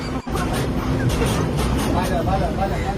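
A new pink city bus rumbles with steady low engine noise in traffic, a constant dense drone with a brief dip near the start, while passengers talk and murmur in the background.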